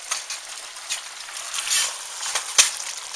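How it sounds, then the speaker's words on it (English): Hamburger meat and onions fry in a pan with a soft sizzle, broken by a few scraping stirs, close and moderately quiet with no talk. "Looks like the hamburger and onions are just about done. I got it all brown in there now."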